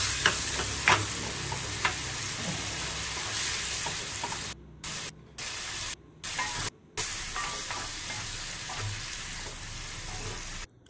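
Fish roe frying in a pan and stirred with a spatula, a loud continuous sizzle with scraping stirs close up and short dropouts, while water is added.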